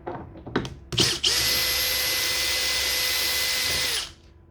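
A power drill on a refrigerator door plate, loosening and removing screws: a few short bursts, then one steady, close, loud whine for about three seconds before it stops.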